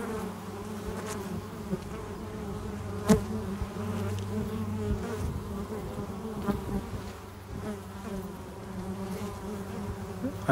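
Honeybees on the wooden walls of a hive give a steady, close, dense buzz, with no talking.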